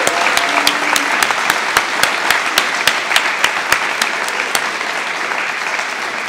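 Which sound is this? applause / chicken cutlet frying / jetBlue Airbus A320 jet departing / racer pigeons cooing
applause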